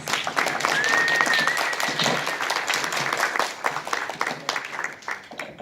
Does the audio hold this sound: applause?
yes